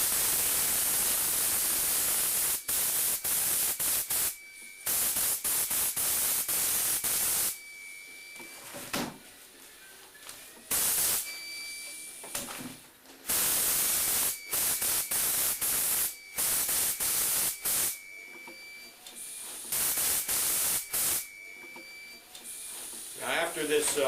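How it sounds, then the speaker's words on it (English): Spray gun laying down a mist coat at about 80 psi while fiberglass moulding, heard as loud repeated hissing bursts of a second or two each, separated by short gaps, close by. "I spray this at about 80 psi."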